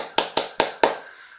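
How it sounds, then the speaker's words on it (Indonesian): Four sharp, evenly spaced hand claps ring out close and loud in quick succession, each fading briefly, from children applauding at an indoor scout gathering. "Beri tepuk tangan untuk kita semua."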